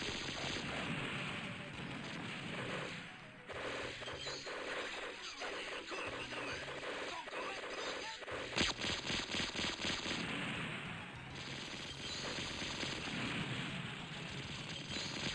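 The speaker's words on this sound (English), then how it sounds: "Although, the noise of her gun is worse." Fan Lady's spread-shot gun firing in VASARA, a steady stream of rapid, buzzing shots layered over constant game noise, faint overall and running throughout.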